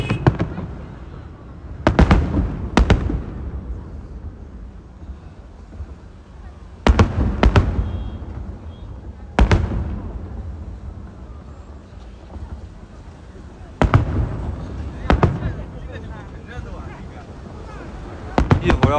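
Fireworks bursting at a New Year celebration, several loud booming explosions spaced apart with crackling decay between them, heard outdoors with faint wind and occasional voices.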